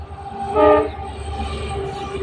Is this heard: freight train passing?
yes